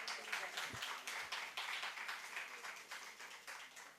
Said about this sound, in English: So a great applause to her.